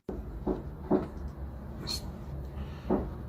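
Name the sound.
knocking in a supposedly haunted apartment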